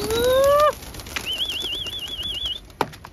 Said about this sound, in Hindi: ये देखिए दोस्तों अपने पूरे कबूतर उठ चुके